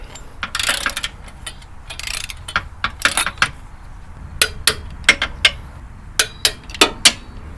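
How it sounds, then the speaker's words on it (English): Ratcheting clicks and sharp metallic snaps from a torque wrench tightening engine mount bolts on a Subaru BRZ in a driveway, a dozen or so distinct bursts in uneven rhythm, close and fairly loud with no talking. "get yourself a torque wrench and set it to 30 foot-pounds"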